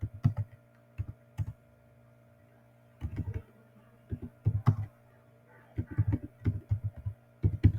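Typing on a computer keyboard while entering text in MS Word, close and clear key clicks in short irregular bursts separated by pauses, no talking.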